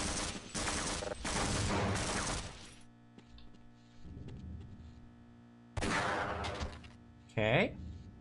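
Sustained automatic gunfire from a big-magazine weapon in the video game Half-Life: Blue Shift, dense loud bursts that stop and resume, with a quieter gap in between and another sharp sound near the end.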